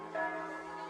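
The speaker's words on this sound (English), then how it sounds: "Those bells haven't rung in years." Church bells in an old Alpine town, a sustained ringing tone that swells early and hangs on through the short moment, fairly loud and steady.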